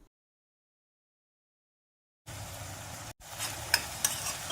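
Sauces for gobi manchurian (tomato ketchup, soy sauce) stirred in a hot pan, steady sizzling and scraping after two seconds of silence, a brief pause, then louder clinks of the spoon against the pan.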